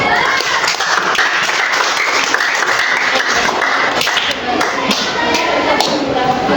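Audience in a classroom-style gathering claps continuously, a dense, loud patter of many hands with voices mixed in underneath.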